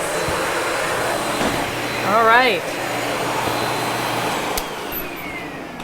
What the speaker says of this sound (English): it is the bag vacuum, and it has a good sized bag